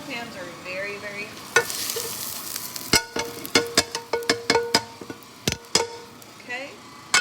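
Crisped chicken pieces drop into a pot of carrot-and-onion soup, bringing sizzling and a run of sharp clanks and taps from a utensil against the pot, loud and close, with faint talk early on.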